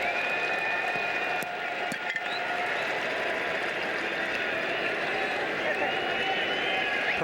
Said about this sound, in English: Here comes Ernie Witt to a derisive round of applause